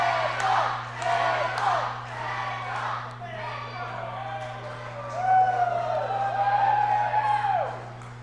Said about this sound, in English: Listen to that crowd here, the raucous crowd of West Branch, Michigan